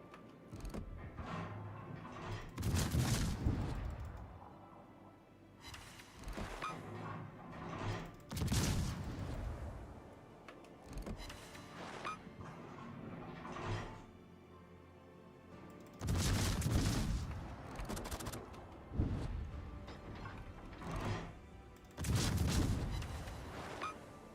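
Naval guns in World of Warships fire in several heavy, booming salvos spaced a few seconds apart, each a loud broadband blast with a rumbling tail, and a low engine and ambient rumble continues between shots.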